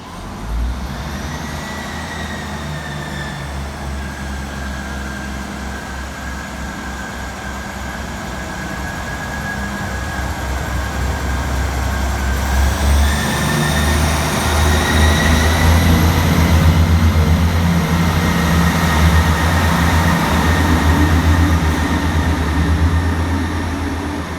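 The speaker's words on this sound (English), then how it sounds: "Next train now to depart is 158703 with the 12:10 ScotRail service through to Dundee." ScotRail diesel multiple unit 158703 pulling out of Arbroath station, a loud steady engine drone with low rumble that swells as it accelerates away, plus a rising whine.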